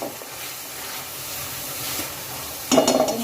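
Crushed kasuri methi roasting with spices in a pan for a corn sabji, a steady close sizzle and hiss with a louder burst of stirring near the end.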